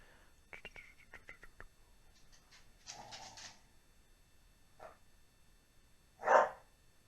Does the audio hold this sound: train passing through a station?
no